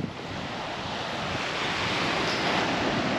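Sea waves washing onto a shore of turquoise water, a continuous loud rushing surf with wind noise buffeting the microphone throughout, with no talk.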